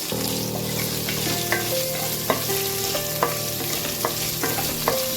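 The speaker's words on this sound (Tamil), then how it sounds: "இது எல்லாத்தையும் சேர்த்து அப்படியே கொஞ்சம் அந்த வெங்காயம் நல்லா ஃப்ரை ஆகும்" Chopped onion and ginger fry in a pan for wheat upma, a loud steady sizzle broken by regular metallic spoon scrapes and taps roughly once a second.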